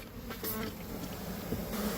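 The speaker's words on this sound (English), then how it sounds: "You see the bees are going straight out the skylight." Bees buzzing inside a home during a beehive removal, a close, steady droning hum of many insects.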